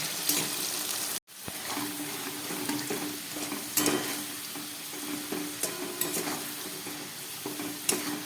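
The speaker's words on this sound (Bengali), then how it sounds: "আলুটাকে একটু ভালো করে ভেজে প্রায় হাফ সিদ্ধ করে নিতে হবে গ্যাসটা কমিয়ে এগুলোকে ভেজে নেব" Potatoes seasoned with turmeric and salt fry in oil over lowered gas until half cooked, giving a soft, steady sizzle with intermittent stirring scrapes and light clinks, fairly quiet and without talk.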